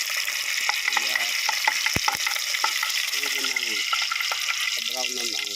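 Garlic frying in a pan for a Bisaya chicken dish, a constant crackling sizzle with a few clicks of stirring, while a person talks quietly over it.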